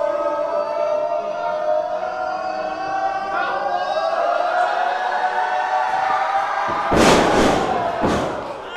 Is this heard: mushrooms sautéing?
no